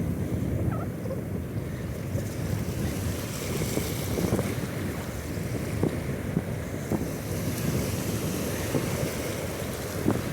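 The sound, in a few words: strong wind at the sea while fishing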